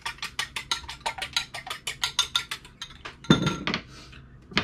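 A fork beats eggs in a bowl with quick, regular clinks against the sides. A few heavier knocks and scrapes follow near the end, close and clear with no talking.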